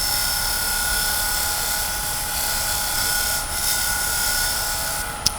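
A negative rake scraper cuts the edge of a wooden bowl on a lathe running at about 2000 RPM. The sound is a steady, loud whirring drone with a constant hiss, close by, and it ends in a brief tap.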